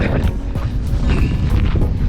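Strong gusting wind at the Hovs Hallar seaside nature reserve in Sweden buffets the microphone, a loud, continuous, rough roar with uneven surges and no voices.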